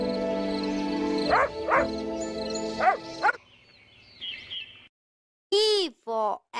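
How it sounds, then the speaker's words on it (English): Cartoon dog barks in a children's 3D phonics alphabet song: a few short barks and yips, close and clear, between sung lines and music. "D for dog."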